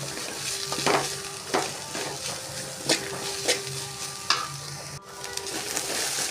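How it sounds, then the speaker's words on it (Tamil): Carrots sautéing in a pan for chicken noodles: a continuous close sizzle broken by repeated spatula scrapes and stirring strokes at irregular intervals, with no talking. "ஒரு ரெண்டு மூணு நிமிஷம் எக்ஸ்ட்ரா வதக்கிக்கோங்க கேரட் நல்லா முக்கால் பாகம் வந்துடும்"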